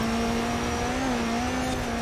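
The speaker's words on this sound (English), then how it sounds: "That is a proper rally car sound if I've ever seen one." Peugeot rally car engine in Forza Horizon 4, a loud, sustained, buzzy drone held at nearly constant revs with slight pitch wavering, alone with no voices.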